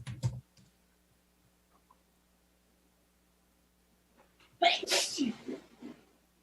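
One short sneeze bursts out at the start. After a near-silent gap with faint clicks, a longer, louder sneeze or a voice follows near the end.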